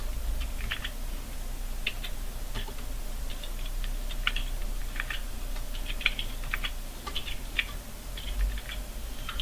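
Computer keyboard keys tapped in short irregular bursts of clicks while a city name is typed into a Python program, close and fairly faint over a steady low hum, with no talking.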